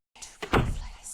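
A kitchen door in the point-and-click game Blackwell Convergence gives a single close, dull thunk with a short rattling clatter, heard alone.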